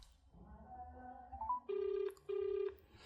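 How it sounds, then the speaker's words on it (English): A telephone ringback tone during an outgoing call, two long even beeps with a short gap between them, heard after a brief faint murmur of background voices. "The phone is ringing now."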